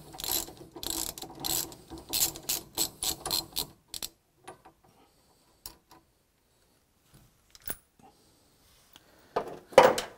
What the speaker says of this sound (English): remove three screws that hold this particular steering horn relay cover on